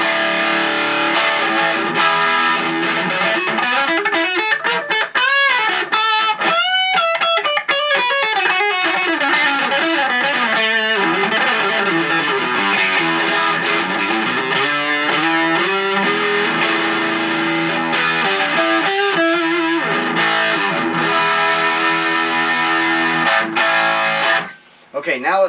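Clean electric guitar on all three pickups together, played alone, bright and full, with strummed chords and melodic runs ringing steadily for a long stretch before a brief pause near the end.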